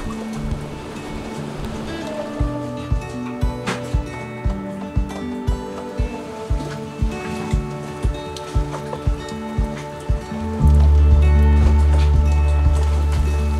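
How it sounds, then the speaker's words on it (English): Steady rain on a sailboat with a rhythmic knocking every half second or so, then a loud surge of rushing water near the end. "Wind, rain, and gray skies."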